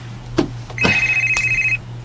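A cellphone rings with a short electronic trill that sounds once and then again, loud and close, after a soft click, over a faint steady hum.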